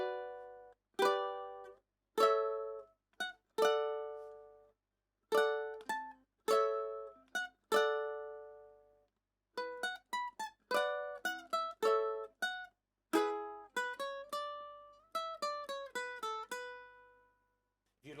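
Solo ukulele plucks a tune from How To Train Your Dragon, bright, clean notes in quick phrases separated by short pauses, quiet and close with no voices.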